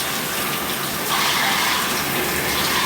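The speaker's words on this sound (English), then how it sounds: "It's like being in a shower." A shower sound effect: water sprays and gushes in a steady, loud, continuous hiss, swelling slightly partway through, with no speech over it.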